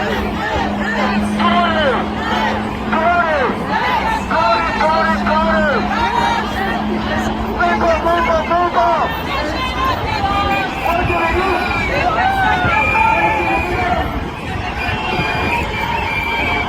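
Dense crowd babble from a Coronation Day march, many overlapping voices close and loud, with occasional shouts and a low drone underneath, steady throughout.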